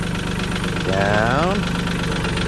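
A tractor engine idles nearby on a homestead with a steady low mechanical rumble, while a person's voice rises briefly over it.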